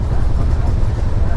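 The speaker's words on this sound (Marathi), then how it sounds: "स्पीड बघा ट्रेननी काय पकडले।" The Bandra Terminus SF Express running at speed, a loud continuous low rumble and roar from inside the carriage with no clear rhythm.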